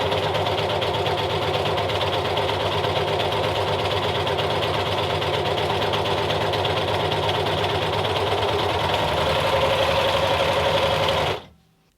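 An overlocker sewing machine runs medium-weight fabric through with its differential feed set, a loud steady mechanical whirr that continues evenly for about eleven seconds before stopping abruptly.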